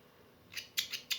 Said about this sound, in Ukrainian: А що, це знов ножиці?